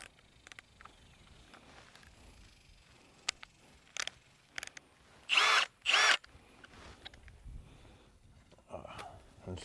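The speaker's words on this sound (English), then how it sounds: "I drill in." Two short bursts of a power drill whirring as it drives a hay probe into a hay bale, each under a second, amid quiet handling noises and a few sharp clicks.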